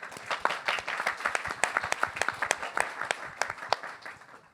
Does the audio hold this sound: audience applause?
yes